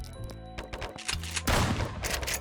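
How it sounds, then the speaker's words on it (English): Shotgun fire in the video game 1v1.lol comes as a quick burst of loud, sharp blasts mixed with busy game effects over a couple of seconds. "Do a shotgun shot."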